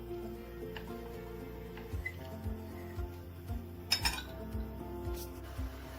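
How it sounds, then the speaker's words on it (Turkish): A spoon stirs starch into milk in a pot while cooking, giving soft scraping rubs and a few light clinks of metal against the pot over a steady background hum. "kaşık yardımıyla bütün nişasta eriyene kadar iyice karıştırıyoruz"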